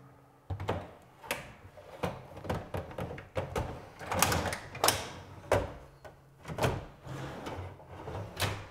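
An IKEA kitchen drawer slides repeatedly along its rails during a test run after installation, giving a series of close, regular sliding rumbles and soft clunks spaced about a second apart, with no voices.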